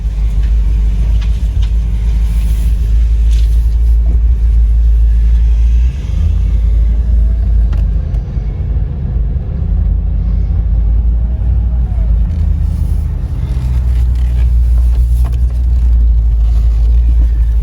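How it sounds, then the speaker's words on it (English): A 1998–2004 Land Rover Discovery 2 engine rumbles steadily at close range as it drives, a low continuous drone with slight shifts in pitch as it moves along. "let's see if the Disco 2 will drive"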